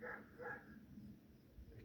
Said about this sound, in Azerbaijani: Üstəlik itlər də hürür.